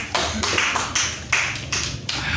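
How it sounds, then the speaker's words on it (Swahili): A church congregation gives a short round of scattered applause for a woman who has just read Scripture, several uneven bursts of claps from a modest group in a room. "Piga dada yetu kwanza makofi ambaye amesoma"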